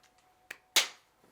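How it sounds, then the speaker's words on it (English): A single sharp hand clap, quiet but crisp and close, with a faint tap just before it and a short fading decay afterward. "I'm gonna clap."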